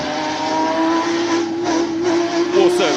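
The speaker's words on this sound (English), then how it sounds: "Also very unique 5-cylinder turbocharged sound" A classic race car with a five-cylinder turbocharged engine climbs a hillclimb course in Cape Town, its loud, steady engine note holding close with a rising rev near the end and no talk over it.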